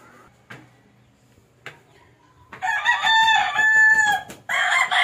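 Rhode Island Red and Black Australorp chickens in a rooftop cage: a few short clucks at first, then a loud, close rooster crow, with more calls following.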